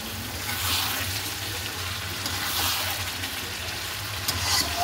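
Meat is sautéed in a pan, a steady soft sizzle and crackle with faint stirring scrapes, close by and fairly quiet.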